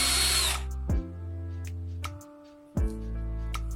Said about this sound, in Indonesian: Ambil pipa plastik dengan diameter kecil dan bor lubang kecil mendekati ujung pipa.